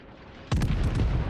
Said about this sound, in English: Fires off a salvo at the Missouri